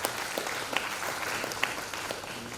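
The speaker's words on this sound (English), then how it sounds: "Let us give a big round of applause for him" A conference audience at a national conference on agriculture, forest rights and sustainable livelihood gives a brief round of applause. The scattered claps are fairly faint and distant, with a few sharper individual claps standing out.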